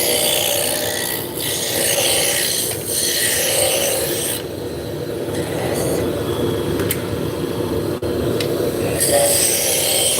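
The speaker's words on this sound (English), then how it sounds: "So I'm using a roughing gouge just to get down close to the correct diameter." Roughing gouge cutting a spinning wood blank on a lathe, a steady rough scraping and rasping rumble with short gaps and shifts in intensity, close and fairly loud.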